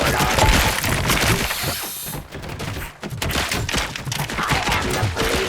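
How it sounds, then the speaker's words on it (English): A heavy machine gun in the Robocop video game fires in a dense, continuous roar, loud and close, with crashing, smashing impacts mixed in and a brief dip in the middle before the barrage resumes. "Heavy machine gun. That can help me."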